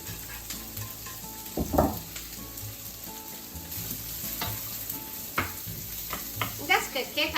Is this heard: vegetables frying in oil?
yes